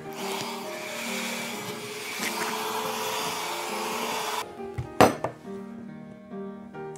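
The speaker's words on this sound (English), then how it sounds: "blow dry" A hair dryer blows on damp, fine, naturally curly hair with a loud steady whoosh, then cuts off abruptly, followed by a sharp clatter as it is set down.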